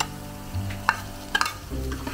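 Chicken pieces go into chili paste frying in oil for ayam kunyit masak cili api, giving a soft steady sizzle with a few clinks and stirring scrapes of a utensil in the pan.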